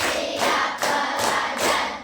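Students in a classroom clap together in a counting rhythm game, several broad bursts of group clapping in steady succession, close and fairly loud over a noisy room.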